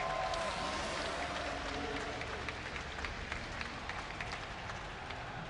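Faint, distant crowd applause and cheering fill a large esports arena at an IEM Gamescom StarCraft II match, a dense, steady wash of clapping heard from far away.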